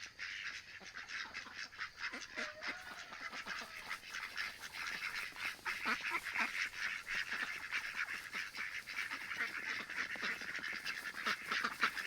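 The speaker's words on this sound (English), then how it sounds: "One of my favorite parts of my day is getting the ducks out to the orchard." A flock of ducks quacks and honks continuously on the way to an orchard, a busy overlapping chorus at close to moderate distance with no talking.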